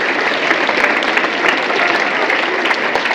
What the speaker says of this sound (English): you all deserve a big round of applause